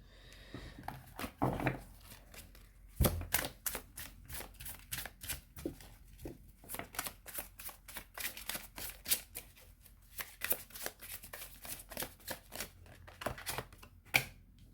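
Tarot cards are shuffled and drawn in quick, crisp flurries of riffling and flicking, close and fairly quiet, with short pauses between bursts.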